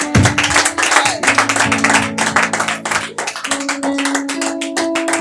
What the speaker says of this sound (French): Et acclame très fort le Seigneur Jésus.